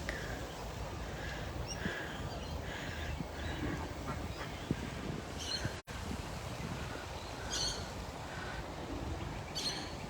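Ducks quack under a bridge in Mt Penang Botanic Gardens, several short calls scattered over steady outdoor hiss, faint and somewhat distant, with no speech.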